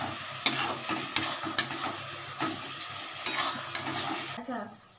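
Capsicum stir-fried in a hot pan over a raised gas flame for a pabda fish and tomato curry: steady sizzling with regular scraping strokes of a spatula, close by, fading out at the end.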